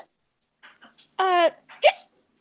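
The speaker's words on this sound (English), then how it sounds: "do you have the hiccups?" A single person's hiccup-like vocal burst sounds out, clear and close, amid soft scattered vocal noises and breaths.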